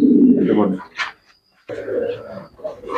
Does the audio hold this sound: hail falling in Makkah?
no